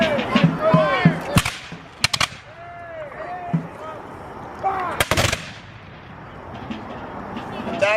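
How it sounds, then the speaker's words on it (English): Cannon fire from a fleet bombardment at an 1813 Battle of York reenactment: several sharp, loud booms ring out at irregular intervals, heard over wind and murmuring outdoor crowd voices. "the American fleet opened up a bombardment on the Grenadiers."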